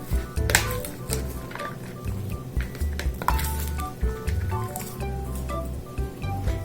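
A spoon stirs onion into a beef salpicón, making repeated clinks and scrapes against the dish in an uneven rhythm, close and moderately loud, with no voices.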